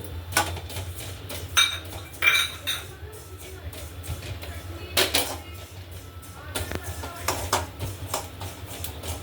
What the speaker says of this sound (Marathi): आता बडीशेप घेऊया भाजून